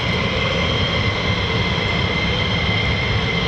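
A USAF F-15E Strike Eagle or F-35A Lightning of the 48th Fighter Wing taking off from an RAF base produces a loud, steady, broadband jet roar that holds unbroken throughout.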